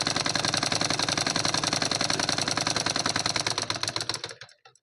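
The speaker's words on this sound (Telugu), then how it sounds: "మార్కింగ్ మీద అయితే కుట్టు అనేది కుడుతున్నాను" A sewing machine runs fast, stitching cotton blouse lining along marked lines with a steady rapid mechanical clatter that slows and stops at the end, with no talk.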